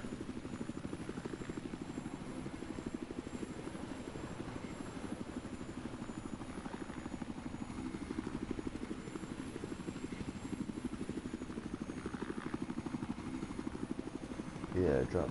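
Helicopter in the video game Battlefield 4, a steady droning rotor and engine roar running continuously throughout, with players talking over it.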